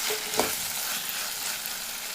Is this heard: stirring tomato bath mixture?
yes